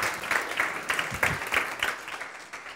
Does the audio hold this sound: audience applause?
yes